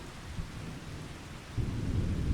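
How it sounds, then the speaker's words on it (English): Rain and thunder in the farming video game Farming Simulator 25: a constant rush of rainfall with a low rolling rumble of thunder that swells louder near the end, with no talking. "Sounds like it's raining."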